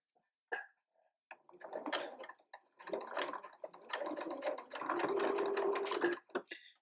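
A sewing machine set to a small 1.5 stitch runs over a toy elephant's arm in quick bursts of rapid mechanical whirring, separated by short pauses and ending in a longer steady run, close and clear.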